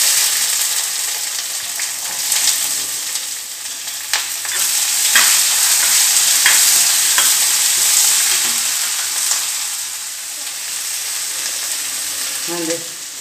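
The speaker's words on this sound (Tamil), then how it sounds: "இப்போ வெங்காயம் லைட்டாக வதங்கிருச்சு." Chopped onion with curry leaves sizzles in hot oil in a pan while a spoon stirs it, a loud steady frying hiss broken by repeated scraping strokes, with no talking.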